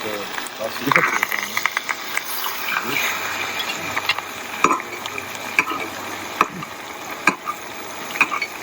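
Butter, garlic and thyme sizzle in a pan during a steakhouse cooking class, giving a steady crackling hiss with scattered sharp pops and clicks throughout.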